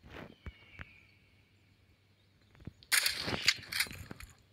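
A rifle shot fired at a wolf in a hunting video game cracks out sharply and close, followed by a burst of bright rustling noise, after a few faint earlier pops and quiet ambience.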